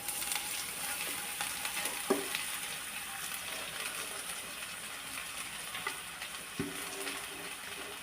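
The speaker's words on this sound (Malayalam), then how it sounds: "ഇനി ഇതിലേക്ക് ഞാൻ ഈ പയർ ഇട്ട് കൊടുക്കുകയാണ്." Green beans tossed into a hot pan with mustard seeds and onion fry with a steady, even sizzle, broken by a couple of sharp stirring clinks as the vegetables are moved around.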